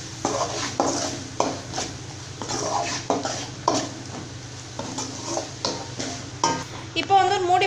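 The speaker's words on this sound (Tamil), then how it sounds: "இப்போ நல்லா மிக்ஸ் பண்ணிக்கலாம்" A spoon stirs coriander and mint into a restaurant-style mushroom masala gravy, giving repeated scraping strokes against the pan over a steady low sizzle, with a few clinks of utensils near the end.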